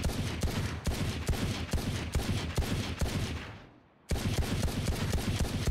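Rapid automatic gunfire from a Valorant weapon, loud and continuous in dense bursts, briefly cutting out for a moment before the sustained firing resumes at full intensity.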